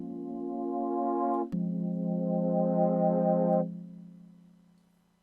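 A sustained synth pad patch from an Elektron Digitone holds a rich harmonic chord, changes pitch once early on, then its brightness closes down and it fades away alone.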